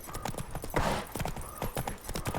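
Hooves of Roach, Geralt's horse in The Witcher 3, clip-clop in a steady trotting rhythm, close and clear, with a brief louder rustle partway through and no talk.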